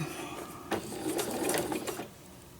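A sewing machine runs steadily at close range, its rapid mechanical whir and needle clatter stitching a crazy quilt sewing roll, with no one speaking.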